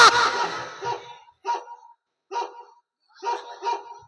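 A dog barks nearby in short, loud bursts, around five barks separated by brief silences.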